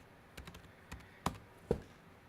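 A computer keyboard gives a handful of faint, scattered taps, four or five soft keystrokes at an uneven pace in a quiet room with no talk.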